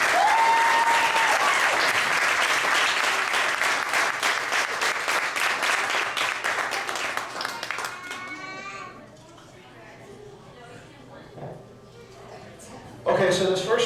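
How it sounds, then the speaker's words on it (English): Banquet crowd clapping for the Phoenix Black team, loud dense applause for about eight seconds that fades into scattered claps and murmuring voices, with a brief burst of sound at the end. "one round of applause for the Phoenix Black"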